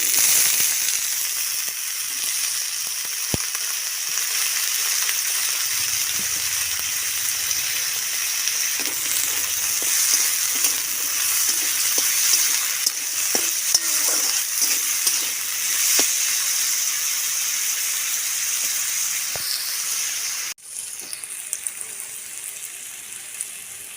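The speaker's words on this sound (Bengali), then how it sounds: "এবারে আলুটা ভেজে নেবো।" Potatoes fry in a pan with a continuous bright sizzle and hiss for about twenty-four seconds. Scattered soft scrapes and clicks of stirring run through it, and the sizzle drops briefly near the end.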